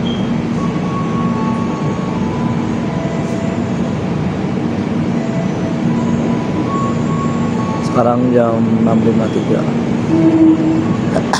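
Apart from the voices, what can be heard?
commuter train arriving at station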